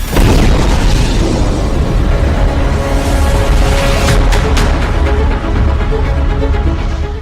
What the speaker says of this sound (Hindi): खार्किव पर रूस के मिसाइल हमले से जोरदार धमाका हुआ